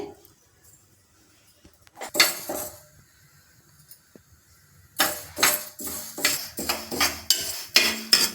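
Moong dal being dry-roasted in a metal pan, with a spoon scraping and clinking against the pan in two bursts, first briefly and then in steady rapid strokes, with no talk.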